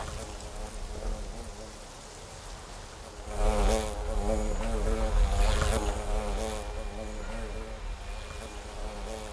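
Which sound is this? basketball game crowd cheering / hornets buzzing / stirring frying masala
hornets buzzing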